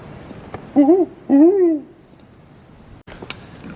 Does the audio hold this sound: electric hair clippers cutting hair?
no